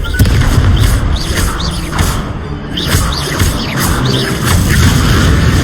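Confringo fire spell explosions in the video game Hogwarts Legacy, a loud continuous barrage of booms, whooshes and crashing impacts of spell combat with no pause.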